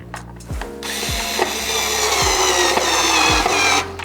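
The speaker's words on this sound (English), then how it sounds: "This isn't actually a drill, it's just like a battery powered screwdriver, which I guess is a drill." A cordless battery-powered screwdriver, running low on battery, whirs steadily while driving screws during assembly of a drum case, with brief clicks and a few low knocks before the motor cuts out.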